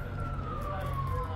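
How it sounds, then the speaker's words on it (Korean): An ambulance siren near a hospital in Vancouver wails steadily in the middle distance, slowly falling in pitch as it passes, over constant low traffic rumble. "여기 지금 앰뷸런스가 막 가고 있어요"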